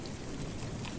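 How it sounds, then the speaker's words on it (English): Heavy rain pours down as a dense, continuous hiss and patter, loud and unbroken for about a second with no voices. "I can hear the rain getting heavier and heavier."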